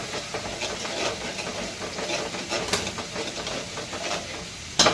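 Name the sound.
prawn curry masala being stirred and sautéed in a pan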